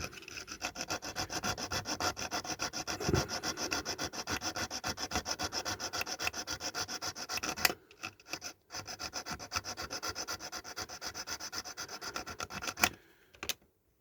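Steady rasping file strokes grinding down the chunky metal base post of a diecast model, continuous and close for several seconds, then a brief pause before the filing resumes and stops.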